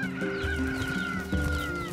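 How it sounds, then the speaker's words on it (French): Chickens in the video game NieR Replicant cluck and squawk together with steady, overlapping calls, loud and close, with no talk. "Où sont vos œufs, les poules?"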